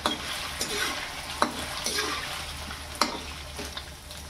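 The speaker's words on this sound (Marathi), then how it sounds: "पनीर तळून झाली तर लगेच आपल्याला कांदा तळायचा आहे बिर्याणीमध्ये टाकायला।" Chopped onions fry in hot oil for a vegetable biryani, giving a steady sizzle beneath repeated scrapes and clinks of a spoon stirring against the pan.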